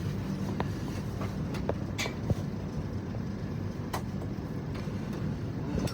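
Inside a moving train carriage, a steady low rumble fills the space, broken by scattered faint clicks and knocks from the wagon. No voices are heard.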